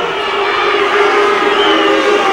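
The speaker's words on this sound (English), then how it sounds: "And when the crowd disapproved" Fight crowd in an arena voicing loud disapproval of the result, a dense sustained roar of many voices with shouting and whistling-like tones, steady and unbroken throughout.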